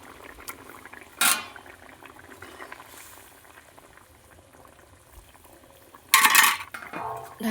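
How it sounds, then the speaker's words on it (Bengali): Fish curry simmers in a pot over low heat, a soft continuous bubbling close by, broken twice by brief clatters of a lid or utensil against the pot. "এরকম হালকা আঁচে ফুটছে, এখন আমি মাছটা দিয়ে দেব।"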